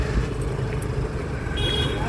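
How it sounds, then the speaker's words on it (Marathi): Road traffic jam on a street crowded near a temple, with a steady engine and traffic rumble throughout, fairly loud and continuous. "म्हणून आमच्या रस्त्याला खूप ट्रॅफिक झालेली आहे."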